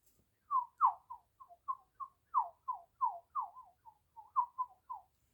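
A person whistles a quick, fluting imitation of tui birdsong, about fifteen short notes rising and falling, clear and close against silence.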